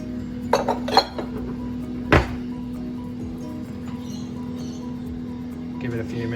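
A cooking pan being handled for heating before searing steak, with a few metallic clinks and one sharp clank against a steady low hum, while someone speaks briefly.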